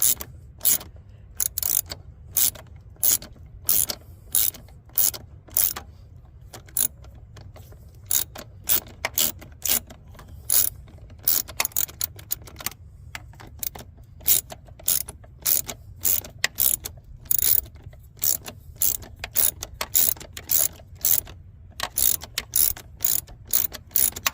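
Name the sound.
ratchet loosening bolts on a Dodge Ram throttle body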